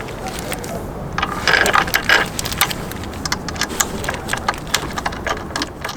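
A socket wrench with a 14 socket ratchets in quick repeated clicking bursts while a center stand is bolted onto a Suzuki V-Strom 800 motorcycle, close and fairly loud, with a few separate clicks trailing off toward the end.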